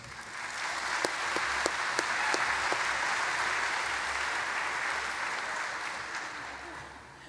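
An audience at an anniversary gala claps warmly as a speaker is welcomed on stage, a dense sustained wash of applause from a large crowd with a few sharper claps standing out, slowly tapering off near the end.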